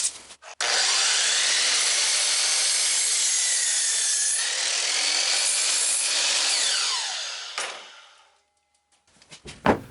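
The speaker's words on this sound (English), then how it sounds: "From one 2x4x8, cut 4 support spokes 22 1/4 inches long." A power saw cuts through a 2x4 board to make support spokes for a water wheel, one long loud continuous cut that fades out, followed by brief clatter.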